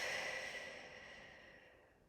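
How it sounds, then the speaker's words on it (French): A long, steady breath blown out through the mouth during a relaxation exercise, a soft airy exhale that starts fairly full and slowly fades over about two seconds, close and alone with no talking. "en relâchant toutes les tensions avec la bouche, en soufflant comme ça, à nouveau. Soufflez avec la bouche."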